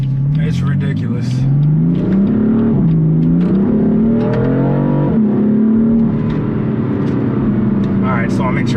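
A BMW M4 with a 3-litre twin-turbo inline six accelerating in traffic, its engine note climbing steadily and loud throughout, with a brief dip and recovery mid-run, heard from inside the car.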